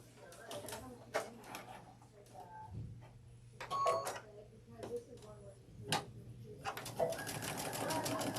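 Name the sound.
sewing machine stitching a half-inch seam allowance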